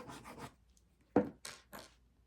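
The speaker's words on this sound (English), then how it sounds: "And you can see that I am smoothing the glue out." Fingers smoothing glue over journal paper make a few faint, brief rubbing strokes, close and quiet, in short separated bursts with silence between.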